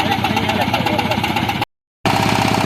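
A power tiller engine running with a rapid, steady chugging pulse, loud and close, briefly cut by a short gap before resuming.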